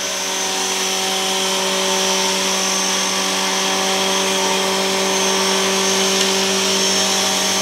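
A flour mill machine grinds rice into flour with a loud, continuous mechanical roar and steady humming tones, constant and close from start to finish with no talk.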